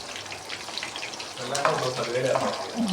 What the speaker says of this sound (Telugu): పచ్చిమిరపకాయలు బాగా వేగనివ్వాలి మరీ ఎరగాలుగా అవసరం లేదు అలా కొద్దిగా మగ్గితే బాగుంటుంది